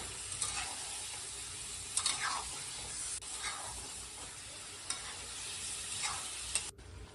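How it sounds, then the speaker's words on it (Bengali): A spicy meat dish sautés with chili powder in a pan at Sunday lunch, a steady low hiss of frying broken by a few scraping stirs. "একটু গুঁড়ো লঙ্কা দিয়ে দিচ্ছি। ভালো করে কষিয়ে রান্না করবো এটা।"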